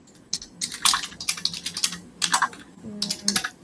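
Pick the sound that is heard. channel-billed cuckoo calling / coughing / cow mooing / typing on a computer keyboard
typing on a computer keyboard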